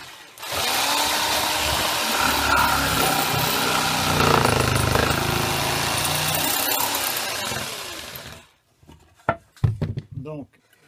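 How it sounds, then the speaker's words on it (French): Jigsaw cutting a circular hole for a chicken feeder, a loud, steady, buzzing saw running for about eight seconds close by, then stopping and leaving brief knocks and a few words. "on va utiliser une scie sauteuse et je vais découper le trou autour"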